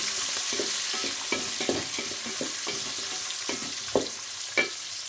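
Three large onions sautéing in a pan for coconut milk chicken biryani, soft continuous frying hiss with rhythmic stirring scrapes and a couple of louder clinks, close by and free of talk.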